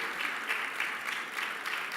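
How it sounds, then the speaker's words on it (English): Applause fills a Shabbat service as a congregation claps steadily in a dense, even patter at moderate volume. "Applause is appropriate."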